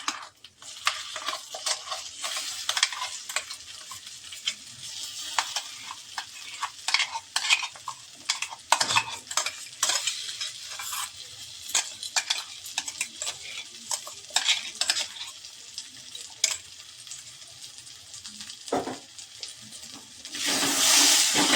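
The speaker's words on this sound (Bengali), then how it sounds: "মিশিয়ে নিচ্ছি ভালো করে।" Ground broccoli paste stirred in a pan for broccoli kachori, with repeated scraping strokes of a spatula and a faint low sizzle, moderately quiet, with no talk.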